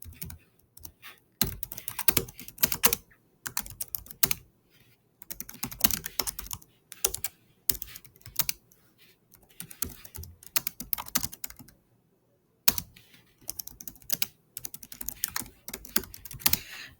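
Typing on a computer keyboard: steady bursts of close, crisp key clicks with short pauses between runs and one longer gap near the end, no talking.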